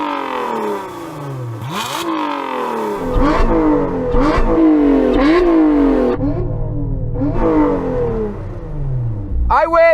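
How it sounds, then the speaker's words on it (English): A supercharged V6 car engine revs repeatedly, climbing and dropping in pitch with a loud whine, close and dominant. "Let's have a listen to your supercharged V6."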